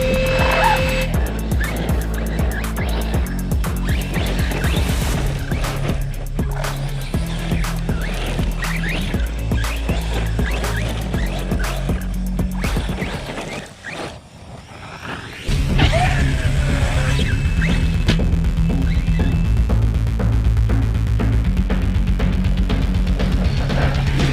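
Hyperflow cooling fans on a Corally XTR 6S RC basher, heard as a loud, steady electric whine with shifting tonal pitch. It dips briefly near the middle, then returns at full strength, with no talking.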